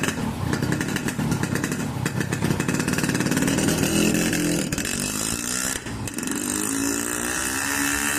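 A motorcycle engine roars loudly and steadily as the bike rides off on a hands-free test drive, its rough revving note filling the clip with no talk.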